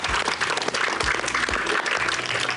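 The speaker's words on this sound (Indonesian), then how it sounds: "boleh kasih tepuk tangan dong." A studio audience at a television programme breaks into applause, a thick continuous roar of many hands clapping at steady loudness throughout, with no talk over it.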